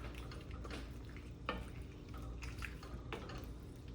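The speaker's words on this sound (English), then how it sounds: "And we just give everything a nice little stir." Spoon stirring a pot of Mexican beef stew, soft wet scraping and occasional light knocks against the pot over a steady low simmer background.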